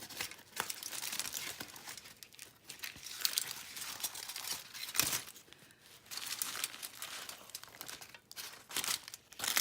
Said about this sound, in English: Stuck to the parchment paper.